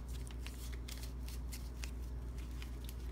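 Paper cash bills being folded by hand for a minimalist wallet, giving soft crisp crinkles and rustling taps close up against a steady low hum, with no talking.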